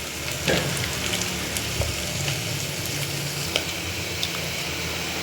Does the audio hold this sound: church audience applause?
no